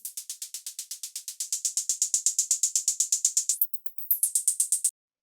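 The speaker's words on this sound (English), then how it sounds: "There we go, now we have a hi-hat" Crisp, thin synthesized hi-hat ticks, made by band-pass filtering, repeat quickly and evenly, their tone brightening and shifting as the filter sweeps; a brief gap, then the pattern resumes, in a melodic techno style.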